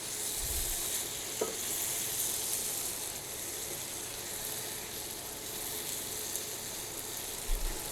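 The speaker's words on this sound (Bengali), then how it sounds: "এইভাবে আরও কিছুক্ষণ নেড়ে এটাকে আরও নরম করে নিতে হবে বেগুনটাকে।" Brinjal curry with a piece of fish frying in a pan gives a soft, steady sizzle, with a few faint scrapes and taps as it is stirred.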